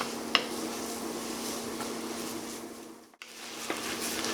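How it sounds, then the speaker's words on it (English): Vegetables, including onions, sauté in a Dutch oven for andouille sausage chili while a utensil scrapes the bottom: a steady close sizzle over a low hum, broken by a few sharp scrapes and a brief dip in sound. "we're gonna saute these for about 3 minutes and scraping the bottom, trying to get all that goodness off the bottom"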